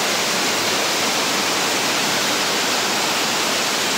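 Kothapalli waterfall roars as a dense, unbroken rush of falling water, loud and close, with no other sounds rising above it.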